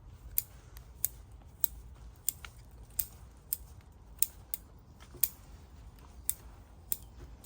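Pruning shears snipping a yew tree being styled and carved, a steady series of sharp, crisp clicks roughly every half second, close and isolated against quiet background.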